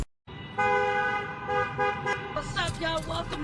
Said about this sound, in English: And we still in traffic.